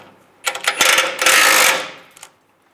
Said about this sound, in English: We have to take these two bolts out on each side, the nuts and bolts, using a 21 millimeter wrench on the backside and a 21 millimeter socket.